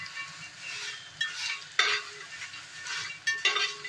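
Dried chillies dry-roasting in a pan for onion-garlic ghati masala, with repeated stirring scrapes and soft rustling bursts, a few sharper metallic taps of the spatula against the pan, close and moderately loud.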